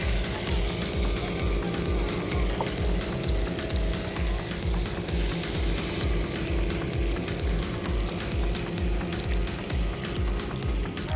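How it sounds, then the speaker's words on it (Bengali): Fish shallow frying in oil makes a dense, steady sizzle that crackles evenly throughout, close and moderately loud, with no talk. "মাছটা আমরা অল্প আছে শ্যালো ফ্রাই করে নিব।"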